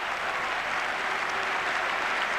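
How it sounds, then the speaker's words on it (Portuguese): A large stadium crowd at a football match between Barcelona and Porto applauds in a steady, dense roar of clapping that holds at the same loudness throughout. "É a primeira, uma das grandes ovações desta noite."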